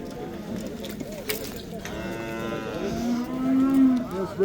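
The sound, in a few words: dairy cows mooing at livestock bazaar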